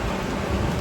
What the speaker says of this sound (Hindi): बारिश पता ऐसी होती है, मतलब सुबह से मतलब वो झिमझिम होती है, अब थोड़ी तेज़ हो गई है।